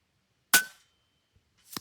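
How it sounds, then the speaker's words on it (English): Epic Two 700 mm .22 caliber airgun firing a single sharp crack into dirt, followed by near silence and then a second fainter thud a moment later. "I should probably shoot in the dirt first. See where we're hitting for sure. I'll take a shot down there."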